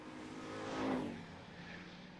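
A super street stock race car sweeps past at Mesa Marin Raceway, its engine note rising to a peak around the middle and fading away, with more cars droning faintly in the distance.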